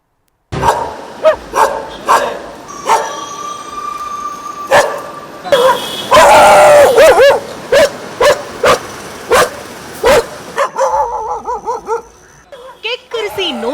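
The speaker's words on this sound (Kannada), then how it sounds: "ಗ್ಯಾಂಗ್ ಕಟ್ಕೊಂಡು ಬೊಗಳಿ ಬೆದರಿಸೋದೇನು" Several stray dogs on a Bengaluru street bark loudly and repeatedly in sharp, close bursts, with yips and whimpers mixed in. A voice speaks over part of the barking.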